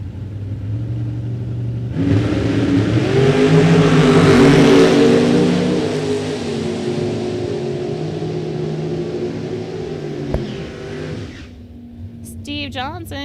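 A 1991 Chevrolet Camaro Z28 launching down a drag strip, a loud roaring engine that swells after a quiet start, holds hard for several seconds, then cuts off, with voices over it.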